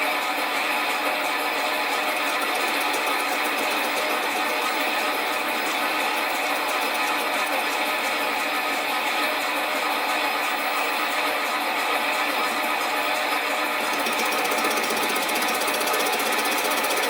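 Metal lathe facing the cylinder cover of a Stuart half beam steam engine, a continuous dense rattling, whirring machining noise at steady level with no speech.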